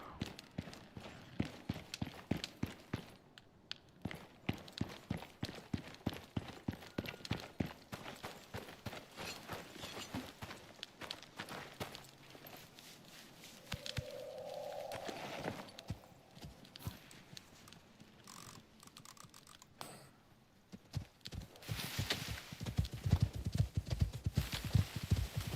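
Horses in the survival video game Icarus gallop in rapid, loud, continuous clip-clop hoofbeats. A brief whinny-like tone rises partway through, and the drumming resumes heavily near the end.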